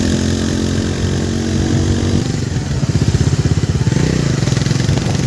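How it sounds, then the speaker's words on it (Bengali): A motorcycle engine runs close by, its steady drone shifting into a rapid pulsing putter as it rides along, loud and without talk. "তো আমরা সবাই একসাথে যেতেছি আস্তে আস্তে বাইকটা চালিয়ে।"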